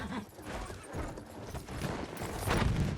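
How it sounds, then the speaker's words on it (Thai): Horse galloping while ridden through a town in the World War I shooter Battlefield 1, with rapid, loud, close hoofbeats in a steady rush amid dense battle noise. "เราได้มาหนึ่งคิวครับกับการขี่ม้า ตะลุยเมืองครั้งนี้"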